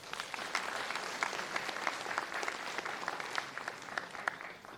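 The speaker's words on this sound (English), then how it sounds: "So a big round of applause for the keynotes too." Steady applause from a conference audience at a programming conference closing address, dense clapping held at a moderate, even level throughout with no voices on top.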